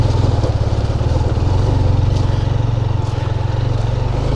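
A motorcycle engine drones loud and steady at close range while riding over loose gravel on a mountain road to Shimshal Valley in Upper Hunza, Gilgit-Baltistan, its low pulsing rumble continuous throughout.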